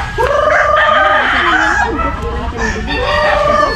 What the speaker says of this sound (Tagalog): papakain ng manok sa ano, Edgar.